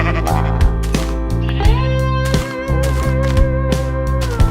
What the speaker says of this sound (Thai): โอ้โหแกะตึม